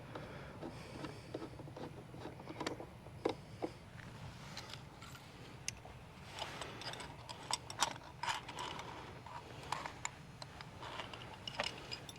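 Ratchet tightening the mounting bracket bolts of a Bodyguard cowl light mount on a 2021 Ford Bronco: a quick series of close, crisp mechanical clicks running through the whole stretch in uneven bursts, with no talk.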